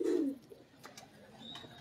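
A pigeon gives a short, close coo at the start, then fades into quiet room tone with faint background noise.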